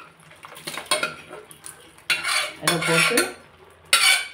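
A metal spoon scrapes and clanks against a pot in bursts as boiled mutton is stirred into thick masala for biryani, with a brief word spoken early in Tamil.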